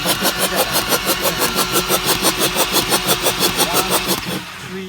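A JCB JS220 excavator engine cranking without starting, with one injector faulty: a loud, steady rhythmic starter churn of even pulses for about four seconds, then stopping, with no talk.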